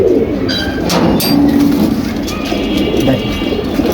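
Pigeons coo in low, soft repeated notes over a steady, noisy background with scattered brief chirps.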